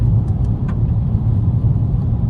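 Inside a VW Polo 1.0 TSI with DSG gearbox climbing a slope in seventh gear at about 107 km/h, a steady low engine and road drone holds throughout, loud and even.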